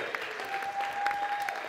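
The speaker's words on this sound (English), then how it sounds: "Give them a big round of applause" Audience applauding the winners of the Rabbit Run 2007 car rally, with moderate, steady clapping, a few sharper claps standing out and a faint whistle-like tone running through it.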